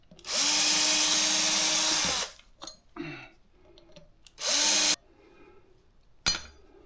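A power driver spins out T25 brake disc bolts on a motorcycle wheel, with two long whirring bursts and a short final burst, separated by faint clinks and handling noises.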